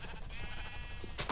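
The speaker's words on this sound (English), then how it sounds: "I can hear sheep." A sheep in the Minecraft video game gives a wavering, nasal bleat that carries on for about a second, loud and close, with a soft thud near the end.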